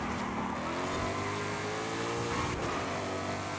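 Race car engine from Forza Horizon 5, a fast car in a festival race, droning steadily and continuously at close range with a held tone that shifts slightly in pitch, with no talking.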